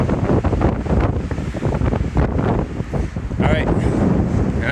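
Strong wind buffets the microphone on an open desert trail near Moab, Utah, a loud continuous rumbling roar that rises and falls in gusts throughout.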